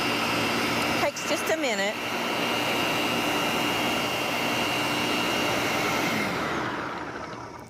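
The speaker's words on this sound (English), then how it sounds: "you wanna blend that all together until it's pureed" A very full countertop blender purees a mixture into a base, its loud, steady motor roar running nearly the whole time and easing off at the end, with a brief spoken remark near the start.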